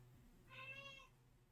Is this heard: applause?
no